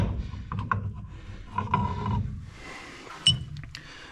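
Parts coming off a 1939 Dodge sedan wheel hub as a nut, washer and brake drum are removed: close metallic scrapes, knocks and rubbing, with a sharper clank near the end.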